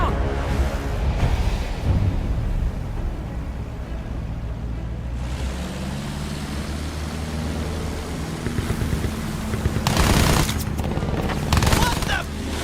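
Gunfire aimed at German aircraft in the Battlefield 1 video game, sustained loud shooting and rumbling battle noise with a heavier burst of blasts near the end, with voices talking.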